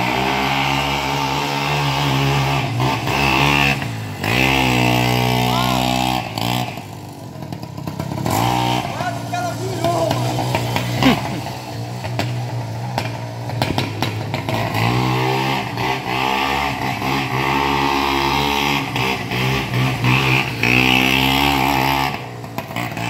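A Caloi moped engine buzzing loudly while being ridden, revving up and down in repeated surges with brief dips as the throttle eases, close and continuous throughout.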